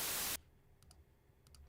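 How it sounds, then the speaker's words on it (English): White noise generated in Adobe Audition from a new 48K mono file: a loud, flat, steady hiss lasting about a third of a second, cutting off abruptly to near silence with a few faint clicks. "noise, and you have white noise"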